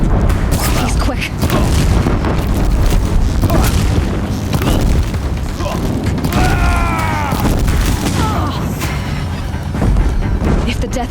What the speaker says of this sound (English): If the Deathbringers keep firing